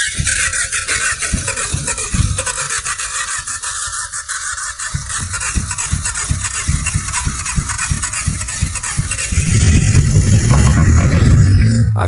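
A 1980 Honda Accord engine runs steadily at idle with a rhythmic pulsing throb, growing somewhat louder near the end as it revs slightly.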